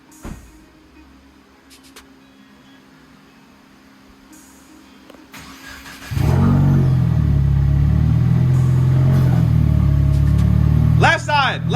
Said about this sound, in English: Okay, Tim, you gotta turn the car on